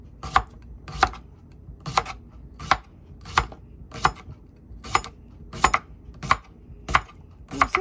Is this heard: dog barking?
no